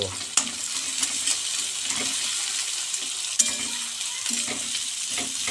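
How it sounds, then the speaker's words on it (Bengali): Sliced onions fry in hot oil for a rohu fish curry, a steady close sizzle with occasional clinks and scrapes of a stirring spoon against the pan. "এবার পেঁয়াজটাকে ভেজে নেব পেঁয়াজ দিয়ে দিলাম পেঁয়াজটাকে হালকা করে হালকা লাল করে ভেজে নেব"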